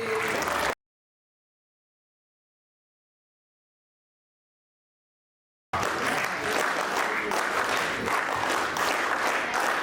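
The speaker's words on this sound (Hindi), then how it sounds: "तालियों की गड़गड़ाहट कम नहीं होनी चाहिए।" Loud, dense applause from a large crowd at a farewell event, cut off briefly by a gap of silence before resuming steadily and continuing to the end.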